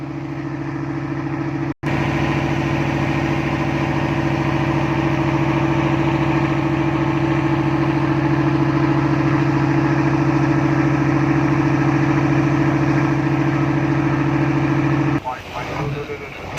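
Fishing boat engines run at the river mouth on the Gulf of Thailand in Pattani, a loud, steady droning hum that holds for most of the stretch while someone talks, then briefly breaks up near the end.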